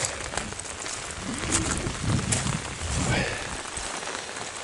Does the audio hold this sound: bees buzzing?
no